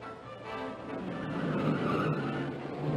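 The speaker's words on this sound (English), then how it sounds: "John von Neumann in a Ferrari, jockeying for position, hits Lance Reventlow from the rear" Late-1950s race cars at the 1958 LA Times Grand Prix, with a Ferrari jockeying for position into a turn, make a dense, continuous engine roar with tire squeal and rising intensity, loud and close, no talk.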